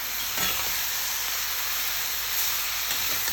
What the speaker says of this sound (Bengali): এটা ভালোভাবে ধনে পাতা দিয়ে নাড়াচাড়া করবো।